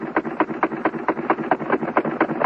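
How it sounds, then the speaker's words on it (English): Rapid bursts from a World War I Spandau machine gun firing, a steady rattling rhythm of about four shots per second, loud and close on an old recording. "That's the sound of a Spandau machine gun being fired"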